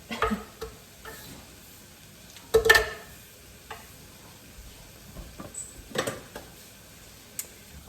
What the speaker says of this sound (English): onions are getting nice and translucent here